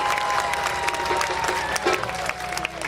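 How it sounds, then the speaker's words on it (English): Sustained applause from a crowd at a memorial ceremony, a steady dense patter of clapping with a few brighter claps and faint cheering mixed in, no speech. "Let us give him another round of applause"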